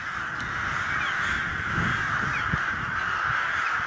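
Rooks caw repeatedly in autumn in the village of Poteryaevka, harsh calls carrying over a steady outdoor background hiss, with no voices.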